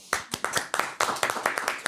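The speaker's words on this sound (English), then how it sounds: "I'd just like to do a second clap" A single person claps hands at a steady quick pace, about a dozen sharp close claps in under two seconds, dry and distinct, on a podcast set.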